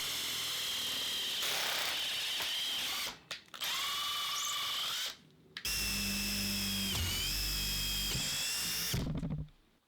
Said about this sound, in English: We drill at medium and high speed.